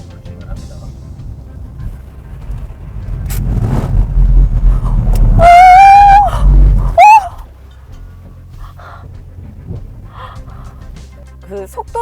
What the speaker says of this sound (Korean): 이번에는 곡선거리를 달릴 텐데요